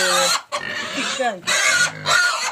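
Pigs squeal and grunt in loud, close bursts inside a farm shed, separated by brief pauses, with some clucking-like calls mixed in.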